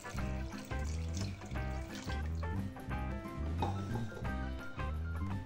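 Water pours steadily from a tap onto granulated sugar for a cake syrup, a continuous close splashing trickle mixed with gentle music.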